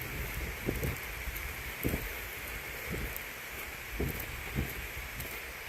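Rain falling during an outdoor walk, a soft, steady patter with light wind and a few dull footstep-like thumps, faint and without talk.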